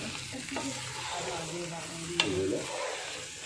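One kilogram of chicken is stirred as it fries in a pan, with a steady sizzle under scraping stirs and a sharp metallic clink of the spoon midway.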